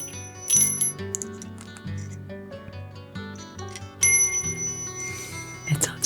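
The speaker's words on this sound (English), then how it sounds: "Then I'm going to push the wire through the bell." A small bell with a clapper jingling as craft wire is pushed through it while a beaded clay suncatcher is assembled, bright repeated tinkles and a few louder rings mixed with light handling clicks, close and clear.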